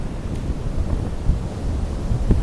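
Rough, windy weather on Cleveleys seafront, with heavy wind buffeting the microphone and surf rumbling beneath, continuous and loud with no speech.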